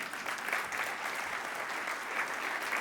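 Church congregation applauding, a continuous moderate wash of many hands clapping with gentle swells in intensity.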